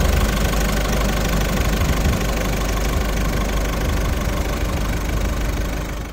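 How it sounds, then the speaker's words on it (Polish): A 2023 Peugeot 308 SW BlueHDi diesel engine runs continuously with a steady low rumble and knocking drone, loud and close, with no other sounds. "Jeden być może słyszycie, ponieważ jest to silnik diesla."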